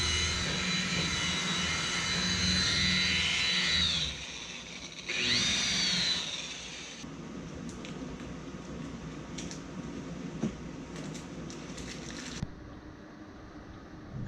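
Rotary machine polisher with a wool pad and Meguiar's 105 compound working faded paint on a classic Ford F100 truck, a steady loud whirring drone that dips and surges as pressure changes, then continues quieter with scattered knocks.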